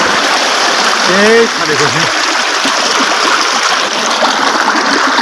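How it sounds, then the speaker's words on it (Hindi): A stream of water flows and splashes nearby in a loud, steady rush that lasts throughout, with a voice briefly heard over it. "ये पानी अल्लाह की कुदरत"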